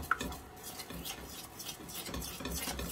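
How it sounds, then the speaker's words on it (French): A utensil stirs caramel in a pot, making soft close-up scraping and rubbing strokes against the pan, with no talking. "Alors, on mélange ici pour bien tout récupérer."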